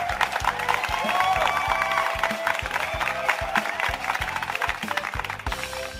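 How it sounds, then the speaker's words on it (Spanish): Applause from an audience for the listeners of a design thinking program, steady clapping mixed with some cheering and music-like tones throughout. "Estos aplausos son para todas las chicas y chicos que nos escuchan"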